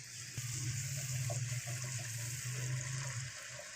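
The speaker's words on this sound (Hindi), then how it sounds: "हल्का सा पानी इसमें डाल देंगे ताकि जो है सारा मसाला हमारा अच्छे से जो है वो पक भी जाए" Water poured into chicken kofta gravy: a steady, close splashing pour for about three seconds over a low constant hum, with no talking.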